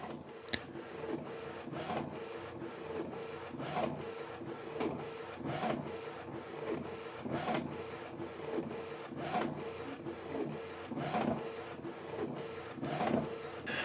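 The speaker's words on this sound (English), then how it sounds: "So it's going to print the alignment paper" Canon G3270 inkjet printer running an alignment page: a steady, repeating mechanical shuttle of the print head sliding back and forth, with regular rhythmic strokes and paper-feed rasps over a constant hum, close by and with no talking.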